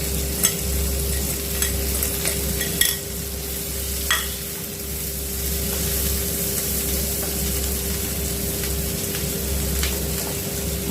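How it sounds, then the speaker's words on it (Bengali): Onion, capsicum and green chili are stir-fried for pasta in a pan, a steady close sizzle with occasional scrapes and clacks of a spatula, over a constant low hum. "পেঁয়াজটা নরম হয়ে এসেছে, এখন আমি ক্যাপসিকাম দিয়ে দেবো, আর দিয়ে দেবো কাঁচা লঙ্কা।"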